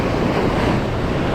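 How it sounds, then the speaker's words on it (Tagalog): Ocean waves at a rocky shore, with a boat caught on the rocks, give a steady loud wash of surf and wind-blown noise close to the microphone, unbroken and with no talk. "Hintayin natin ang alon."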